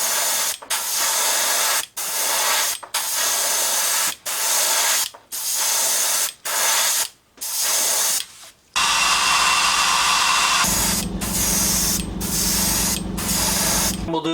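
An airbrush sprays ghost orange transparent paint onto a chrome fishing lure spoon in a series of loud hissing bursts with short pauses, then one longer continuous spray.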